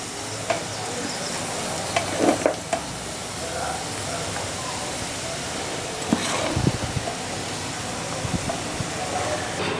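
Steady sizzling and crackling from a hot pan as rice is stirred into tempering, with scraping stirring strokes and a few louder clanks of a spoon against the pan.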